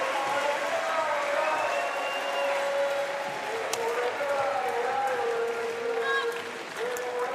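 A large French crowd applauds at a para badminton mixed doubles SL3-SU5 match, a dense, sustained wash of clapping and cheering filling the arena, with a commentator talking over it.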